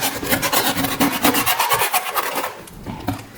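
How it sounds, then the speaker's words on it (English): A 3M sanding block rasps back and forth over the jagged wooden edges of a faux pumpkin craft piece in quick, close, scratchy strokes. The strokes ease off toward the end. "Okay, so I have a 3M sanding block."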